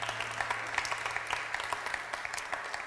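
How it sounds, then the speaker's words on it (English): A church congregation applauds during a Sunday morning worship service in a hall, with steady, dense clapping from many hands that continues evenly throughout, and a low hum underneath. "You can applaud on that line if you would"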